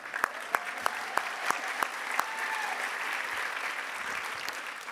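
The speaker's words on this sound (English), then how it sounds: "we can clap again" Audience applause at an ACLU SoCal honors event, a light, scattered patter of clapping with a few sharp individual claps standing out near the start before settling into a soft, even spatter.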